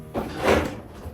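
A kitchen island drawer slides open or shut with a single soft, close rumbling glide lasting about a second, heard with no talk.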